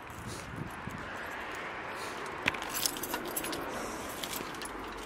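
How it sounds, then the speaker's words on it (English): Car keys jangle briefly as they go into the ignition of a car with a faulty exhaust valve, giving a small metallic jingle over low, steady background noise. "so the key is in the ignition"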